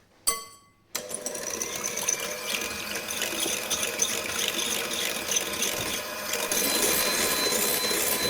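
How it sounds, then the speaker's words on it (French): An electric mixer whips three salted egg whites in a salad bowl, starting with a brief buzzing whir, a short pause, then a continuous loud motorized drone that brightens slightly toward the end. "On va monter nos blancs en neige."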